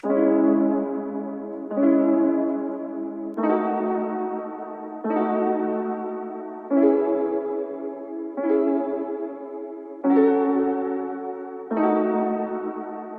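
Dark orchestral UK drill beat: repeating sustained chords, each swelling in and fading, with a wobbly RC-20-processed sound layered with echo and reverb, steady rhythm, no voices.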